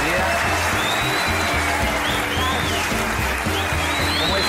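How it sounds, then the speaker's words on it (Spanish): Studio audience applause welcoming a guest on a Spanish-language show, continuous clapping under a loud musical bed with a steady low beat, with voices faintly mixed in. "un aplauso, le damos la bienvenida"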